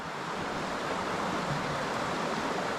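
A small waterfall on a winter mountain stream in the San Gabriel Mountains gives a steady, dense rush of splashing water, continuous and fairly close, with no voices.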